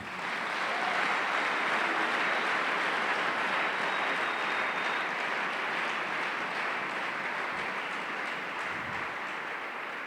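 A church congregation claps for the Lord, steady sustained applause from many hands lasting the whole stretch, dense and fairly loud with no pause.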